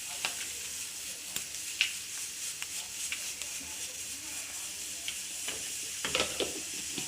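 Dried red chillies fry in hot oil for Nagercoil-style kadala theyal, giving a steady close sizzle with scattered sharp crackles and pops throughout.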